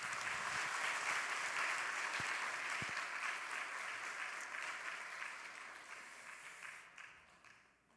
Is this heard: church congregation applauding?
yes